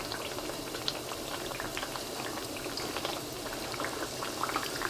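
Eggplant slices sizzle and crackle steadily in hot oil in a frying pan, a dense continuous fry with scattered pops, close and moderately loud with no talking.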